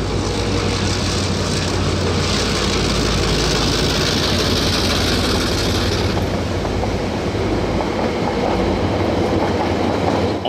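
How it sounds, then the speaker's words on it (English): Vintage diesel locomotive DA1431 hauls an excursion train between Christchurch and Rangiora, a loud, steady engine roar mixed with continuous rail clatter throughout, with no voices. "Steam Incorporated ran a series of excursion trains out of Christchurch behind vintage diesel locomotive"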